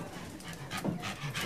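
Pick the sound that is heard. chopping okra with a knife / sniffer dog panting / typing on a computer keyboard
sniffer dog panting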